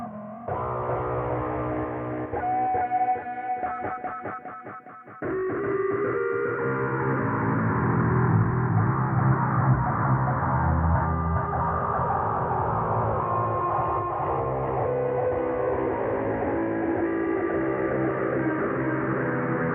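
Guitar riff generated with reMidi2 and pitch-shifted deeper in Bitwig, a short picked phrase followed by dense, sustained distorted playing, steady and fairly loud throughout without any voice.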